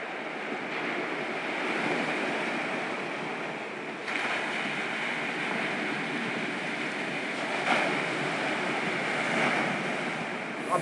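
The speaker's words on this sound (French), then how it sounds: "L'eau qui coule de la rivière, mais aussi les vagues de la mer qui se frappent contre les rochers." River water flows and sea waves crash against rocks in a steady outdoor wash of surf and rushing water, with a few slightly louder surges and light wind noise throughout.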